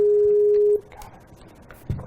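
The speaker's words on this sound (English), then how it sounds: "It's ringing." Steady electronic ringing tone of an online video call, one sustained beep that cuts off after under a second, followed by quiet room noise and a brief bump.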